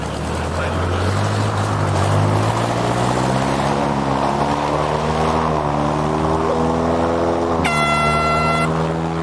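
A monster river raft driven by a 5.5-litre engine roars upriver at a race start, its loud engine pitch climbing steadily, with a sharp horn blast near the end.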